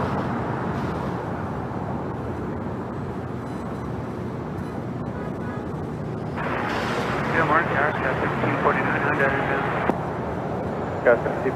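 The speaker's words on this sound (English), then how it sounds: "the last arrival on 25 left before the two A380s head on out of here. China Airlines Cargo, 777 freighter" A China Airlines Cargo Boeing 777 freighter arrives on runway 25 left with a loud, steady engine roar. It swells and gets rougher partway through, with wind buffeting and a voice talking over it.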